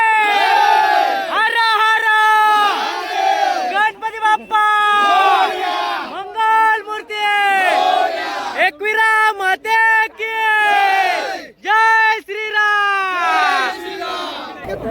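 A large crowd at a bullock cart race near Panvel roars, chants and cheers in loud, sustained waves of massed shouting, with brief drops between bursts, close and dominant throughout.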